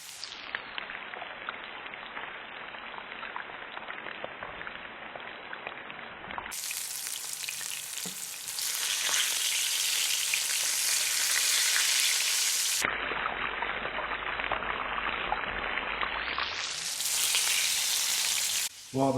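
Gilthead bream fillets fry in a hot pan outdoors, giving a steady close sizzle with crackle that swells louder midway, continuous and without voices.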